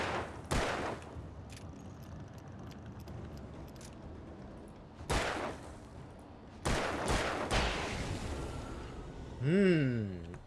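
Sharp gunshots in Alan Wake crack out singly and in short bursts over steady background noise, with someone talking, followed by a warbling whoosh at the end.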